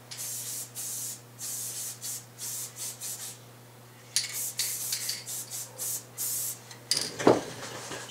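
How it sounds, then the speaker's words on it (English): A spray can hisses in a series of short bursts and then longer ones, close and steady, as a model bush is coated from underneath and on top, with a brief clatter of handling near the end. "I'm going to spray underneath it and top, so we're going to fill the whole thing."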